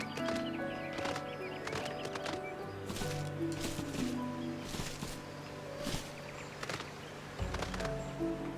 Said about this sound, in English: You can ride a unicorn around.